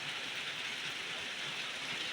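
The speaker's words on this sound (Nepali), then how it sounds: "कस्तो मुसलधारे पानी परिरहेछ हेर्नुहोस् न" Heavy downpour of rain falling steadily outdoors, a dense continuous hiss with no voices, loud and close throughout.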